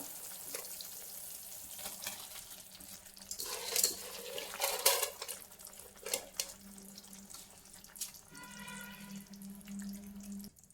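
Water bubbles in a pot while soaked basmati rice is poured in, a soft watery hiss and splashing swelling in bursts, with clinks of utensils and no speech.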